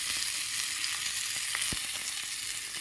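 Prawns frying with turmeric and salt over a low flame, a close continuous hiss of sizzling oil with a few light clicks and taps of stirring, no voices.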